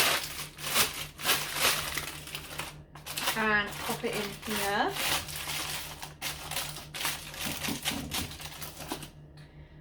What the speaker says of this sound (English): I have got a piece of greaseproof baking paper and I've just screwed it up like this